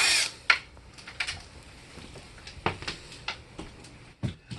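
A power drill run in reverse backs a screw out of a glass frame, producing short bursts of whirring and clicking up close between quiet gaps.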